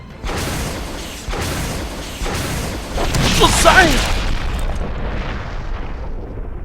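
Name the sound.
rocket launcher firing in Resident Evil HD Remastered, video game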